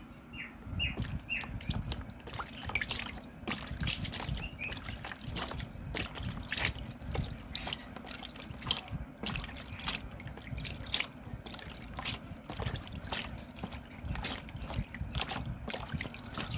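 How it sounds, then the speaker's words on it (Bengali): A red-whiskered bulbul bathes in a dish of turmeric water at home, giving steady close trickling and dripping splashes with quick wing flicks throughout, plus a few faint chirps early on. "আজকে হলুদ জলে স্নান করছে আমাদের সোনামা"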